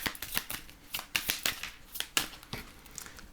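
A deck of tarot cards handled and shuffled up close, dense crisp riffles and slaps in quick irregular bursts that continue throughout without any voices.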